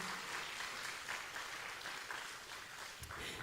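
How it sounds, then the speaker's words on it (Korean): A church congregation at a Sunday worship service claps in a continuous, fairly soft wash of applause that stays even throughout. "우리 하나님께 영광의 박수 올려드릴까요?"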